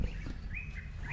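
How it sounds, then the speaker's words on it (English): Birds chirping outdoors in a quiet village, a few high, thin tweets repeating over a low background rumble, moderately close and alone without talk. "it's so cool, silent, with the birds chirping."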